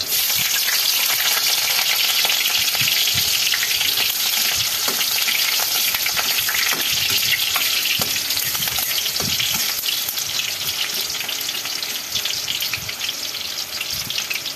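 Onions frying in a pan with a loud, dense, continuous sizzle throughout and faint stirring knocks underneath, no talking.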